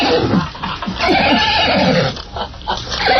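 A horse neighs loudly as a radio show sound effect, a long whinny with shaky, rising and falling calls that fills the whole moment, close and clear with no talk over it.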